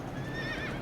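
A horse in the video game Shadow of the Colossus neighs and whinnies over the clatter of its hooves, a brief and fairly loud burst with no talking.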